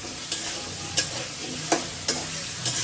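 Potatoes fry in a pan with a steady close sizzle, and a spoon gives a few sharp taps against the pan at irregular intervals.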